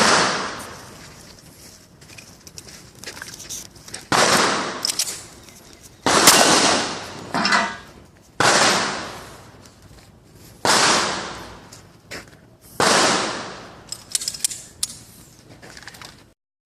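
Shots fired at a nearby target during shooting practice, six sharp loud reports spaced roughly two seconds apart, each with a ringing decay, no talk over them.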